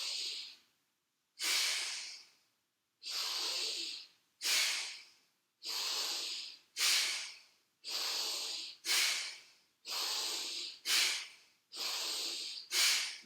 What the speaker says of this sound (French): Bastrika, la respiration active.